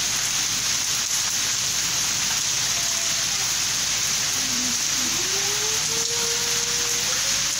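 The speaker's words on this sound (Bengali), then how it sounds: "এখানে জোরে বৃষ্টি হচ্ছে বাবা" Heavy rain falls in a dense, constant roar of drops hitting surfaces, loud and close throughout, with a faint tonal whine drifting in the background near the end.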